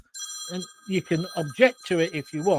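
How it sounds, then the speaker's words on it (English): A mobile phone rings with a steady, high electronic ringtone that runs beneath someone speaking at close range. "That's my phone going off."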